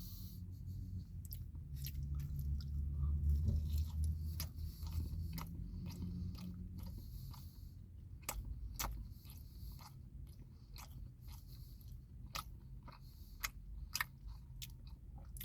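Close, crunchy chewing of Little Caesars Crazy Puffs, cheesy pizza snacks, with irregular sharp crunches and bites scattered over a quiet stretch of mouth noise and soft breathing, and no talking.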